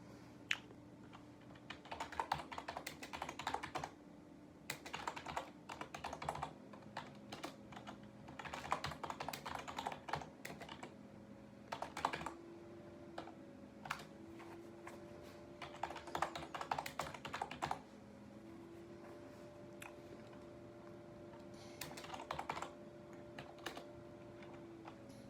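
Steady typing on a computer keyboard during Java coding, with close clicks in bursts and short pauses over a low hum.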